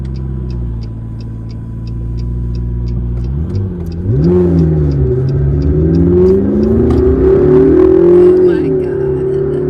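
A McLaren MP4-12C supercar in track mode idles with a low, steady burble before the engine revs up sharply and climbs in pitch, loud and close, with a voice exclaiming over the roar.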